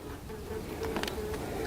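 Calm honey bees buzz around their hive on a cool morning, a soft continuous drone with a few passing individual buzzes close by.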